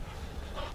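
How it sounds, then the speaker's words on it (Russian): A well-fed dog lying nearby gives a brief, close, low sound like panting or a soft whimper, with steady faint noise around it. "Хорошая упитанная собачка."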